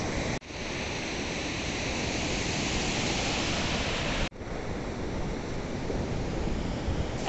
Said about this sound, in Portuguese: E aqui tá o mar